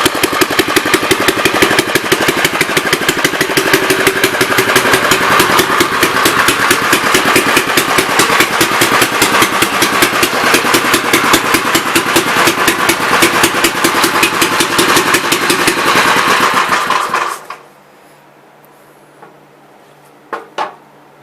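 A 1954 engine runs loud and steady with a rapid, even firing beat, then sputters and cuts out abruptly as it runs out of fuel, leaving near silence with a couple of faint knocks.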